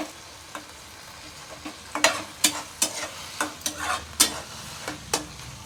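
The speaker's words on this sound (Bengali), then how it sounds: "টক পাতা ভাজা হয়ে যাচ্ছে" Sour leaves sizzle in a large hot wok while a utensil scrapes and stirs in irregular taps, close by with a steady frying hiss underneath.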